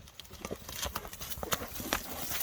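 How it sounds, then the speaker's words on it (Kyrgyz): Horse hooves clip-clop in a steady, uneven rhythm on hard ground, fairly close, with soft background noise and no talk over them. "Ушул атты көрсөтөбүзбү, Самат?"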